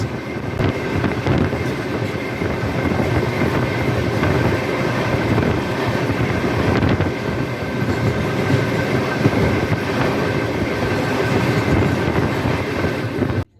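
The 15652 Lohit Express, Jammu Tawi to Guwahati, rumbles steadily past at close range, a loud continuous roar of wheels and carriages with faint rhythmic clatter throughout.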